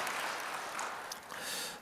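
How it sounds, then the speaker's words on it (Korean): A church congregation claps for new members at a Sunday worship service, a soft, steady patter of many hands lasting under two seconds at a fairly low level. "우리 함께하신 새 식구분들을 위해 감사의 박수 부탁드리겠습니다"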